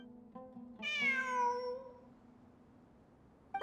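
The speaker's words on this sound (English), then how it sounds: "It really is a cat." A single drawn-out cat meow in the Genshin Impact video game, rising then falling in pitch over about a second, heard alone against a steady low hum with a faint click near the start.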